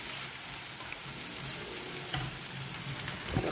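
Two salted eggs scrambled in a pan for an Indian breakfast, giving a steady close sizzle of frying with soft stirring scrapes throughout.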